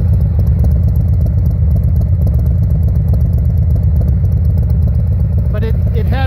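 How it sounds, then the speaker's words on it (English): A 2018 Harley-Davidson Heritage Softail two-cylinder engine fitted with RCX mufflers idles with a loud, steady low loping rumble, close by, with a voice briefly heard near the end. "it has a much better loping sound of a 2-cylinder Harley engine than the stock ones do"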